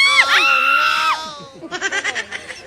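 A group of people gives a loud practice scream before going water rafting, a long high shared shout lasting about a second, followed by a burst of laughter and giggling.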